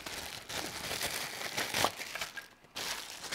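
A plastic packaging bag crinkles and rustles continuously as an eSun eBox is unboxed, with dense crackling bursts close by and a brief lull near the end.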